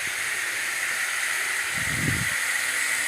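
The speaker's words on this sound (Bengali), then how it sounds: "এভাবে মশলাটা বন্ধুরা ভালো করে আমি কষিয়ে নিচ্ছি অনেকক্ষণ ধরে" Masala spice paste frying in oil in a home kitchen, giving off a steady, even hiss that holds at one level throughout, with a brief soft low rumble partway through.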